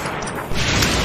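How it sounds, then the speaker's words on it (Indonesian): A rifle shot fired in the online action game Lost Saga, a sudden loud blast that jumps in partway through and leaves a dense, noisy roar ringing for the rest of the moment. "Oke, inilah tembakan senapan gua."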